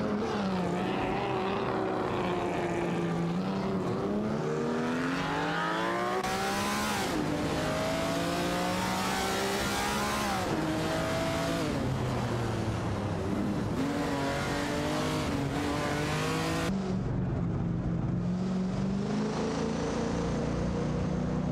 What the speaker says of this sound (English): A tight race is unfolding between Kazashuk and Di Marianu in a Ford Mustang Boss 429